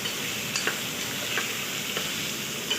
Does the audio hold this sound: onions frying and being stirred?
yes